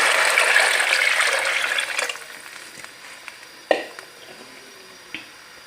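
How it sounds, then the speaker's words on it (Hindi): Water poured into a pot of frying meat and rice for Kabuli pulao, a loud hissing sizzle and splash for about two seconds that fades, followed by a few faint clinks and taps. "अब इसमें 6 गिलास पानी शामिल कर देंगे।"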